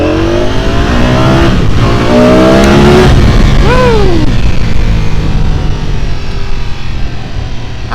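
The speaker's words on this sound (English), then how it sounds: "Let's give it a little gas here." A 2025 Ducati Panigale V4 on a demo ride from Tampa Bay Ducati roars loud and close, its engine climbing through rising, revving pitch sweeps over steady wind and road noise.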